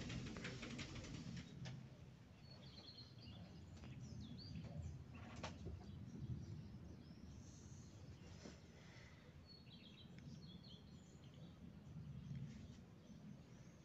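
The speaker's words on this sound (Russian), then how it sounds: "Птички поют." Birds sing outdoors on a warm early summer morning near blossoming apple trees, scattered faint chirps and coos over a steady broadband background hiss, no voices.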